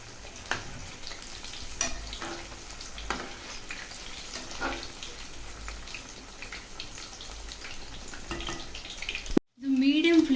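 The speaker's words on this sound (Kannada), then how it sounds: "ಸ್ಲೋ ಫ್ಲೇಮಲ್ಲಿ, ಸ್ವಲ್ಪ ಮೀಡಿಯಮ್ ಫ್ಲೇಮು, ತುಂಬ ಸ್ಲೋನೂ ಅಲ್ಲ, ಮೀಡಿಯಮ್ ಫ್ಲೇಮಲ್ಲಿ ಚೆನ್ನಾಗಿ ಫ್ರೈ ಮಾಡ್ಕೊಳ್ಳಿ." Chicken leg pieces fry over a medium flame with a quiet, continuous sizzle and occasional stirring clatter in the pan, ending with a brief cut to louder sound.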